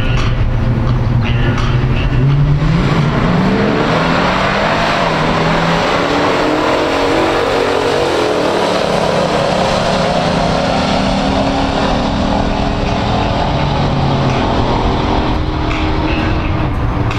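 A 1969 Plymouth Road Runner and a 1971 AMC Javelin in a pure stock heads-up drag race, engines roaring loud and steady throughout with a low rumbling drone and a brief surge near the start.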